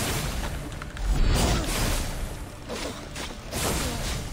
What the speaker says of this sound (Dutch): Uitkijken voor al die kleine ontploffingsgebieden.